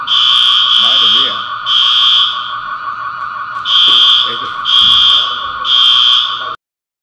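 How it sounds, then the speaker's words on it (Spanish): An alarm sounds in a broadcast studio, a loud piercing tone pulsing in repeated bursts of about a second with a steady lower drone between them, while voices talk faintly underneath. "no crean que Romy Vallejo nos ha encendido la alarma misteriosamente cuando hablábamos de él"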